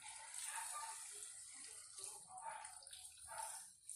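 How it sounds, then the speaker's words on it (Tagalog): Water is poured into a pot of mung bean soup with glass noodles, making a faint, steady splashing stream for a few seconds. "lagyan na po natin ng sabaw mga kaguro ng tubig"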